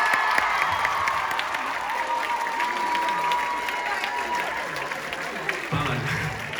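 Concert crowd applauds and cheers, a continuous wash of clapping with voices mixed in, held steady throughout at moderate level.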